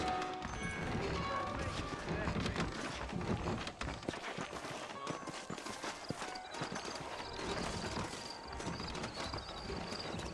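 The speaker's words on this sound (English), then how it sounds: "I got the horses saddled up and ready out front." Several horses trot along in Red Dead Redemption, their hooves clip-clopping in a steady, overlapping rhythm that keeps going beneath game ambience and occasional voices.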